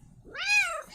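A cat named Bread lets out a single drawn-out meow, rising and then falling, close and loud with nothing else around it.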